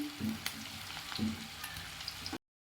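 Cauliflower gobi pieces frying in hot oil, a steady close sizzle with faint crackles and a couple of brief stirring clinks, no voices.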